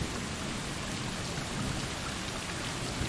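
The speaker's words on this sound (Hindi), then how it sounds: "अच्छा ठीक है, बारिश हो रही है।" Dense, even rainfall patters continuously in the Stray video game, a steady hiss of drops on surfaces with no voices or other sounds.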